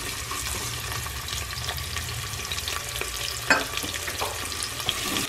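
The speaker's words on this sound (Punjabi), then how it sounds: "ਜਦੋਂ ਆਪਣਾ ਜੀਰਾ ਹਲਕਾ ਜਿਹਾ ਭੁੰਨ ਹੋ ਜੂਗਾ ਉਸ ਤੋਂ ਬਾਅਦ ਆਪਾਂ ਇਸ ਦੇ ਵਿੱਚ ਪਿਆਜ਼ ਪਾ ਦੂੰਗੇ" Cumin and onions fry in hot oil with a steady, close sizzle, broken by scattered stirring scrapes and clicks. No one talks.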